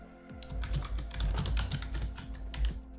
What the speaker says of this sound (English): I'll just type try again.